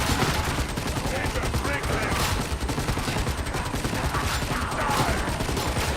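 Rapid, continuous video game gunfire rattles steadily for the whole stretch, loud and dense with overlapping shots and mechanical clatter, in an online shooter match.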